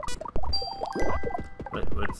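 Bright chiming bell tones ring out repeatedly in the Autonauts video game, tinkling over a busy mix of clicks and game sounds, with long sustained ringing notes in the middle of the passage.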